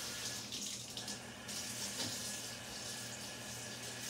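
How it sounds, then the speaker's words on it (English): Water running steadily from a tap into a kitchen sink, a constant close splashing hiss that stays even throughout with no talking. "I'm going to put this in the sink and let some water run on it."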